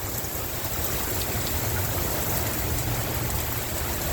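A Norfolk Southern locomotive, NS 7501 leading train 60I, idles at Springdale, PA during rain: a steady low engine rumble sits beneath continuous, loud hiss of falling rain, with no voices.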